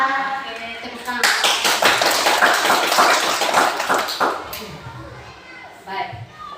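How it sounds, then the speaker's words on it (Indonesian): A class of children claps their hands together in a burst of dense, close clapping lasting a few seconds, with young voices chattering over it before it tapers off and a teacher speaks. "Oke, tepuk tangan."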